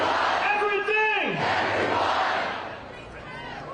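A large protest crowd in Washington, D.C. roars and chants back in unison, a loud collective shout that swells then trails off into scattered voices and cheering.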